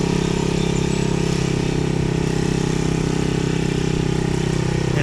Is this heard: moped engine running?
yes